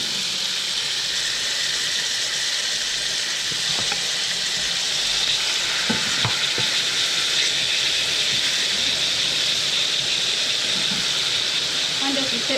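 Pork chops sizzle loudly in a hot pan, a dense, steady frying hiss that fills the whole stretch, with a few faint clinks and movements underneath.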